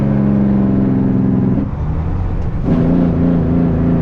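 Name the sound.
truck driving off on the road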